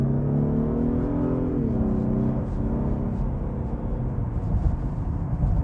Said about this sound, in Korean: 드라이브 모드를 스포츠로 바꿨고요. 가속을 하게 되면은